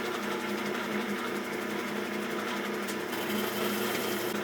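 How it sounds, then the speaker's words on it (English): An electric power sander runs continuously on a wooden piece for a foot stool, giving a steady close buzzing whir with an even level and no pauses. "It does remove material pretty quick."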